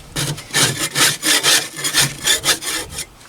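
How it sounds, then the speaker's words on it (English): A scraper rasps back and forth over a Pit Boss grill to clear off baked-on residue, making about a dozen rhythmic, close, gritty strokes that stop just before the end. "Scrape as much off as you can."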